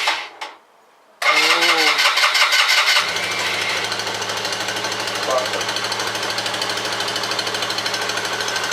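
A petrol engine cranks briefly, catches and roars loudly at high revs, then drops to a steady, rapid, knocking idle that runs on nearby, with a brief exclamation from a person near the start.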